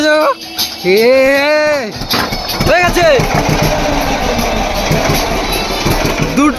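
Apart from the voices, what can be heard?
boat engine starting and running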